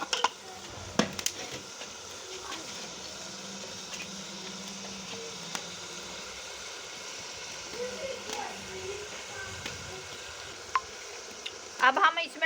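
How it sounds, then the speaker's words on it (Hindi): Meat and spices sizzle in a pot for turnip meat curry (shaljam gosht), a low steady frying hiss with occasional scrapes and clinks of stirring, someone talking over it. "इसे अच्छी तरह भून लेंगे और डालेंगे अपने मसाले।"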